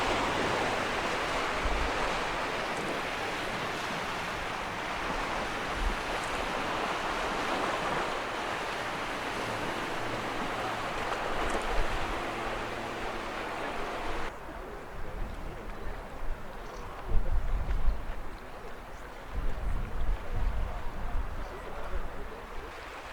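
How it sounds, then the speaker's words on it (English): The Severn Bore tidal wave rushes past at Sharpness, a broad, loud surging roar of moving water that cuts off abruptly, leaving quieter lapping water and wind gusts. "Sadly, the bore passes you by very quickly"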